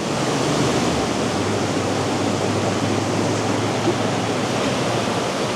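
A large low-to-mid elevation mountain stream in the Great Smoky Mountains rushes steadily nearby, a loud, broad, continuous wash of water with no voices.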